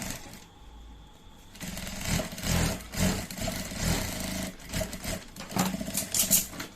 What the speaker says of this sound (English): So now top stitch that same spot again to make it look neat.